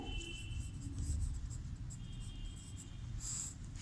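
Writing on a board during a Hindi grammar lesson for a primary class. Faint, steady scratching strokes continue throughout over a low background hum.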